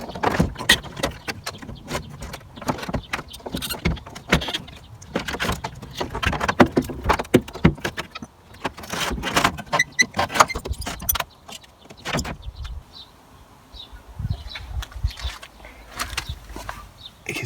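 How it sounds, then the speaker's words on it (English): Grips crush and snap the plastic clips holding a VW T4 radiator housing, giving a busy run of sharp cracks, clicks and rattling plastic up close, easing into quieter scattered knocks, with no talking. "So I'm just going to crush them and snap them with the grips there."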